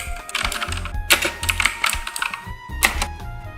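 Clicky keystrokes from a Bastron MK75+ wireless mechanical keyboard with blue switches, in quick irregular bursts with a few louder hits, close and clear. A soft musical bed runs underneath.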